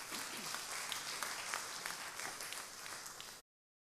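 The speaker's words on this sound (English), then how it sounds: "Give her a round of applause." Steady, dense audience applause filling a hall, sustained and even for a few seconds before cutting off abruptly.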